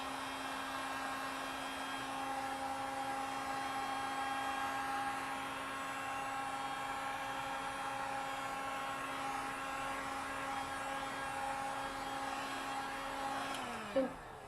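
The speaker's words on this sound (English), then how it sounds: "that's why you'll see me moving back and forth with the heat gun" Heat gun blowing steadily on a rolled beeswax taper candle, a constant whining hum with a steady pitch that runs alone for about thirteen seconds, then winds down and cuts off with a small clunk.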